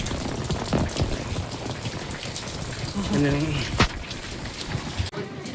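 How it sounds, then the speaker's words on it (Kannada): Heavy Deepavali rain pours down in a steady, dense roar, close by. A voice is heard briefly partway through. "ಫುಲ್ಲು ಮಳೆ ಜಾಸ್ತಿ ಆಗ್ಬಿಟ್ಟೈತೆ"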